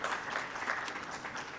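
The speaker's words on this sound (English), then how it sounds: "I would like to give a big round of applause" Audience applause for the Pakistan Bank Association at the DIGIBAP Summit 2024, a steady wash of many hands clapping at even loudness throughout, with no speech over it.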